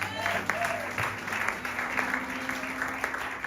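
Church congregation applauding, steady dense clapping from many hands filling the room, with a voice speaking over it.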